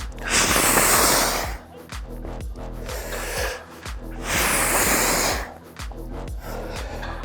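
Forceful breathing during a cable crunch ab exercise, with loud rasping exhales and inhales in a steady rhythm of about three long breaths, close up.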